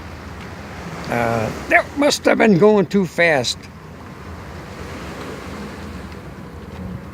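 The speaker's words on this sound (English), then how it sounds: "we got some waves coming in" Wake waves from a passing boat rolling in against a sailboat in a harbor, a low continuous wash and slosh of water under a brief spoken remark, steady and moderately near.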